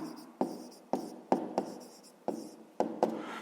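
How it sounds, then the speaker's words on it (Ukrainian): A pen writing a math exercise on paper, close and quiet, with a series of distinct taps and short scratching strokes spaced roughly every half second. "Е, записуємо тоді."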